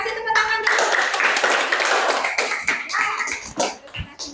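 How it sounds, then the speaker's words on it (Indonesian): A classroom audience claps after a presentation, a dense burst of applause that thins out into scattered claps near the end, with voices mixed in. "Dulu kasih tepuk tangan dulu."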